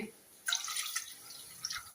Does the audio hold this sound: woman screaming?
no